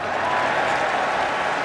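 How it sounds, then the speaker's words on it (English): Broad, steady roar of a large football stadium crowd at a Stanford versus USC college game, dense and continuous with clapping mixed in, filling the whole moment without any break. "judging from the sound of the crowd here, this may be going against the Trojans"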